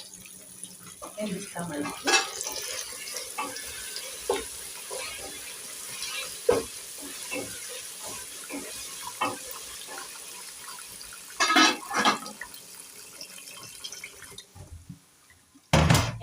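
Water runs in a kitchen sink while rice is rinsed by hand, a steady splashing stream with bursts of louder gushing and clatter, under occasional speech.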